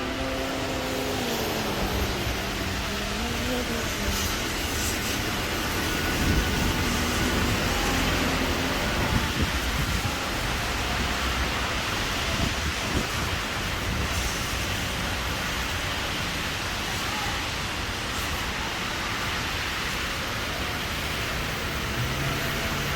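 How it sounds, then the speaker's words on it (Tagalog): Rain falls in Dubai as a steady, even hiss that runs unbroken for the whole stretch, with no voices over it. "It's a rainy day."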